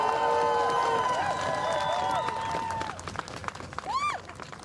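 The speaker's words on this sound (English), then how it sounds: "if we can have one last round of applause for Tasha Van Auken and Ali Najmi" An audience at a New York City mayoral press event gives a round of applause for two appointees. The clapping fills the opening seconds, overlaid with tonal whistles or squeals, then thins into scattered claps and murmuring.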